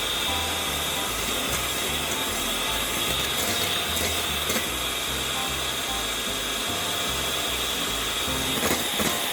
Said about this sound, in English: we're going to whisk the egg white now. And slowly we're adding the sugar